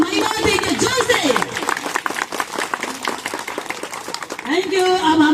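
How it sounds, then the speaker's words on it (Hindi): A church congregation claps loudly together in praise of Jesus during a worship service. The fast, rhythmic clapping continues throughout, with voices singing and calling out over it. "हम यीशु के नाम में ताली बजा के नाम पर हम यीशु को हम महिमा देंगे जोर से"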